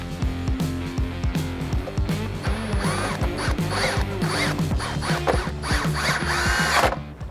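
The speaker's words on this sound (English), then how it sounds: "Reinstall the 3 trim screws." A power drill drives trim screws into an overhead MOLLE shelf inside a Jeep JL/JT, giving a close, rhythmic run of quick mechanical pulses and ratcheting whirs that carries on without talk.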